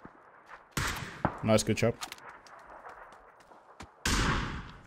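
Sniper rifle shots in the battle royale game PUBG: two sharp, loud cracks roughly three seconds apart, with a brief spoken voice between them.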